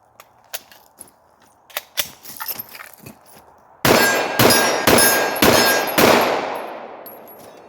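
Several sharp, loud gunshots from a semi-automatic pistol fitted with a Holosun 507 ACSS red dot sight, fired in a quick uneven string after a few lighter clicks and clanks, each blast ringing out with a decaying tail.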